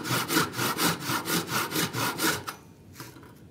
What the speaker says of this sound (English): drop your saw on the waist side of your knife wall and run it down to that quarter inch